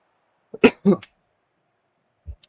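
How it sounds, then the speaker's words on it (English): A few harsh, close coughs burst out in a quick cluster, followed after a pause by one softer short cough, with silence between. "I got a really bad cough"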